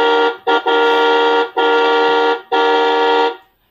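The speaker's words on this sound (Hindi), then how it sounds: "आपको हॉर्न मिल जाता है गाड़ी के अंदर" An electronic horn on a battery-operated kids' ride-on toy car blares in a steady tone, sounding in four bursts with short gaps, loud and close, with no talking.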